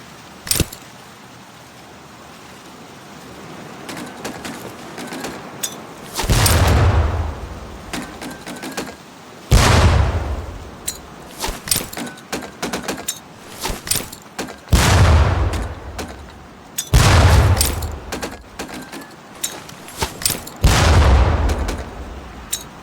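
Training grenades in Medal of Honor Pacific Assault explode near barrels during boot camp, five loud booming blasts spaced a few seconds apart, each with a rumbling low tail, separated by quieter ambient clatter.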